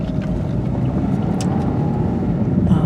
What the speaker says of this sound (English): Almost got ran over by a red truck.